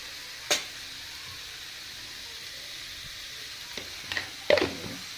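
Ash gourd pieces sautéing with salt in a pan give a faint, steady sizzle, with a few sharp clinks and scrapes of a spoon near the start and again toward the end.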